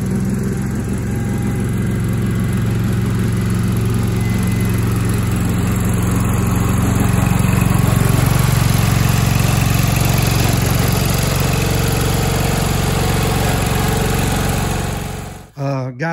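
The engine of a 1250 hydrostatic Cub Cadet lawn tractor runs with a steady, loud, close drone that swells slightly midway, then cuts off abruptly near the end.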